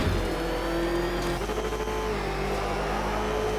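The Batmobile's engine in Arkham Knight rumbles and revs steadily, a loud, continuous low motor drone with a slight pitch rise partway through, heard alone.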